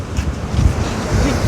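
Rough surf on a Jaffna beach during stormy weather, a constant low roar of churning waves mixed with gusty wind buffeting the microphone, with a voice faintly under it.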